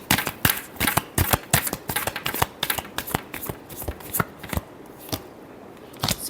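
Tarot cards being shuffled by hand in a quick run of crisp, close riffling flicks and slaps, dense at first and thinning out toward the end, with no voice over them.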